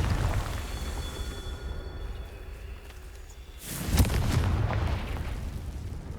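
A Confringo fire spell bursts in Hogwarts Legacy, a sudden loud explosive boom rising out of a low rumbling background, then a lingering crackling roar that slowly fades.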